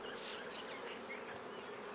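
Honey bees buzz in a dense, steady drone as they are brushed off a honeycomb frame during a honey harvest in Fiji, close and continuous with no talk.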